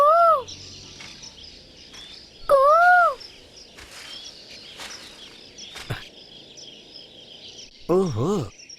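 A koel calls outdoors in three loud, rising-and-falling cries spaced several seconds apart, with quieter background noise and some voices between the calls.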